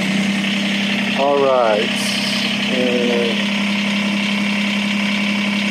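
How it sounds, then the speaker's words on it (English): A warm Kubota BX2380 compact tractor engine idles with a steady, even mid-pitched drone throughout, close and loud, while someone speaks briefly over it. "The tractor is warm, and we are going to give it a shot."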